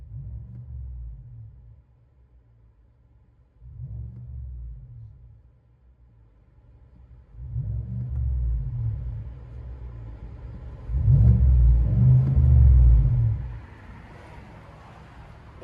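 Cabin view of a 2020 GMC Sierra Denali 6.2L V8 with Borla ATAK dual exhaust, a deep throaty rumble that swells in several rev surges, the last one loudest, then settles back to a low drone.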